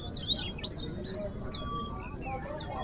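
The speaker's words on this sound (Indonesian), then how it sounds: "perenjak gacor ya. Perenjak lawu, perenjak kristal yang gacor kayak gini tuh." A perenjak (prinia) songbird chirps and warbles in quick, high bursts, faint and slightly distant, over a noisy bird market background with murmuring.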